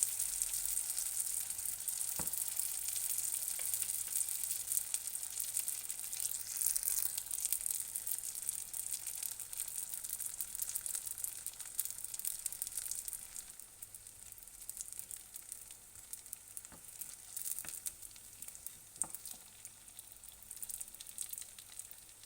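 Brick pastry bourek filled with minced meat sizzles and fries in a pan with a steady, close hiss, broken by a few soft clicks as it is turned.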